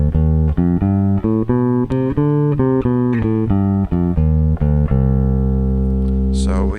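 Bass guitar plucking an ascending C melodic minor scale up to the ninth, one clean note roughly every half second before a final sustained tone, heard alone without talk.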